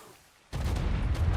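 An explosion in the video game Primal Chaos comes in as a sudden booming burst that carries on as a dense, rumbling roar, close and loud after a quiet start.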